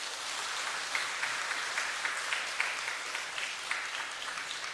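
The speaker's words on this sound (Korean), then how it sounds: "먼저 박수하겠습니다" Soft, distant applause from a church congregation, a quiet even patter of many hands with a few sharper claps standing out, sustained for several seconds without speech.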